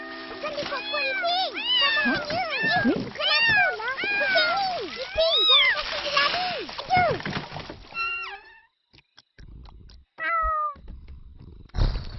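An animated cat meows over and over in quick, wavering cries, loud and close, then a few shorter meows follow. Children's voices mix in.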